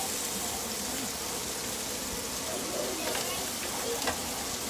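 Bacon frying crisp in a pan, a steady, loud hiss and crackle with scattered pops throughout, no voices.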